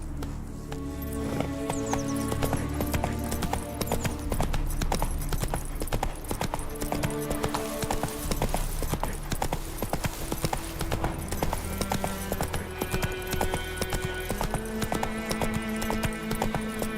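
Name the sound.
hooves of the horse Roach in The Witcher 3 video game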